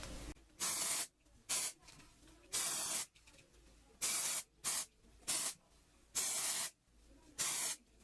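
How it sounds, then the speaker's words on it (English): A dry shampoo aerosol can sprays in short, loud hissing bursts, about eight spurts in an irregular rhythm, with quiet gaps between them. "I have a hard time not closing my eyes when I spray."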